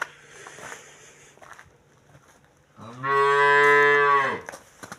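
A cow moos once, loud and close, in a long sustained call lasting over a second, at a cattle sale in Paxtakor neighbourhood, Sirdaryo district, Uzbekistan, with quieter farmyard background before it.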